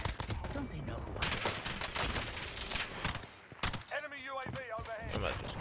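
Gunfire in Call of Duty Warzone on Rebirth Island comes as dense, sustained automatic bursts of sharp shots, loud and close, with a brief pause and then further rapid fire, while a voice speaks over parts of it.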